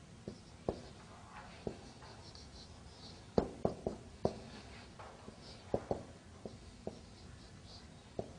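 Writing on a board produces a series of short, sharp taps and strokes at an irregular pace, faint over a low room hiss with no speech.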